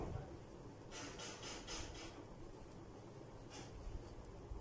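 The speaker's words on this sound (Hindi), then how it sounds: "लिख देती हूँ मैं लेबोरेटरी।" Chalk writing the word laboratory on a classroom board, heard as several short scratchy strokes in quick succession and then a pause before one more stroke, quiet and close over a low background hum.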